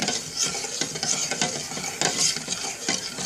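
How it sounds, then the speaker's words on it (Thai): Canned coconut milk is stirred in a pot over medium heat, a steady scraping swirl with faint sizzling underneath, continuous and fairly close with no voices. "คนไปให้กะทิกระป๋อง ที่เทจากกระป๋องละลายนะคะ"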